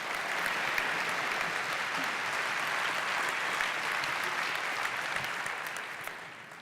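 An audience at a church rally applauding Dr. Amen, with steady, dense clapping sustained for several seconds before tapering off near the end.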